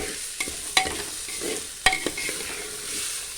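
Bora rice frying in cow ghee, a soft continuous sizzle punctuated by a few sharp scraping clinks of a spoon stirring the pan.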